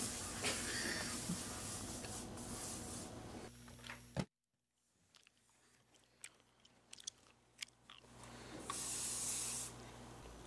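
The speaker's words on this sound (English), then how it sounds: "Use lots of bro body spray." Bro body spray hissing from an aerosol can, a steady close burst near the end after a loud musical stretch, a silent gap and scattered faint clicks.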